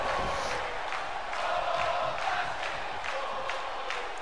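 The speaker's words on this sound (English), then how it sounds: "The crowd's really loving Keith Lee here tonight" Arena crowd cheering in the WWE 2K20 wrestling video game, a continuous roar of many voices with rhythmic surges, loud and steady for the whole stretch.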